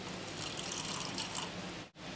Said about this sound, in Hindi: इसमें 1 से 2 टेबलस्पून पानी डाल दें